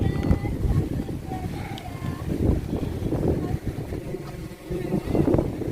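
Wind blowing along the seaside at Tanjung Lesung, a steady rushing roar that buffets the microphone throughout, with faint voices mixed in.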